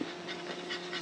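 A dog panting close by during an overland truck camping trip, quick rhythmic breathy huffs repeating through a brief moment.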